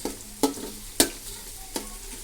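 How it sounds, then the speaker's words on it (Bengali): Onions fry in oil with cinnamon and white cardamom for chicken biryani, a low sizzle under three sharp spoon strikes on the pot, close and brief. "পেঁয়াজ তেল দিয়ে ভাজতেছি। এর মধ্যে দিয়েছি দারচিনি, দিয়েছি সাদা এলাচ।"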